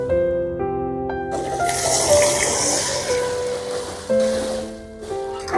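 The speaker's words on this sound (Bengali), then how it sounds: "এবার সেদ্ধ করে রাখা মটর দিয়ে দেব।" Boiled peas and water tipped into a hot pan of spiced, sautéed potatoes while cooking ghugni with mutton fat, a brief splashy hiss and sizzle rising over steady background music before fading back.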